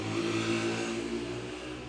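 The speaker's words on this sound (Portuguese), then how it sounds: "Moto passando." A motorcycle engine passes by outside, a steady mid-pitched drone with a slight revving swell, fairly loud and continuous for the whole short stretch, with no talking over it.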